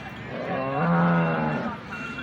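A single long, deep moo from a buffalo at a livestock market, close and loud, swelling and then fading over a couple of seconds against faint background murmur.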